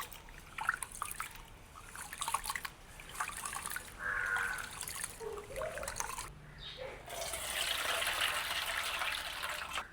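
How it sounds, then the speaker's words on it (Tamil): Rice being washed in water: steady, close sloshing and trickling, with a brief clink partway through and a fuller rush of water near the end. "அரிசியை நாங்கள் கழுவி எடுப்போம்"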